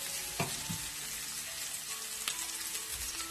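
Sliced onion fries in hot oil in a pan for a dhaba-style potato and eggplant sabzi, a dense continuous sizzle up close with a couple of sharp stirring clacks.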